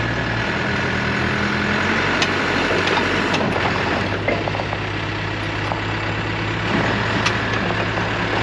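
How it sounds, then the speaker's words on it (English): A backhoe engine runs steadily in a continuous, loud, close diesel drone with a faint beep now and then, and no talk. "We're going to get the backhoe out."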